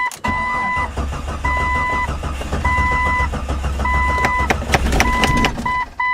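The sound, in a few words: old vehicle engine cranking, trying to start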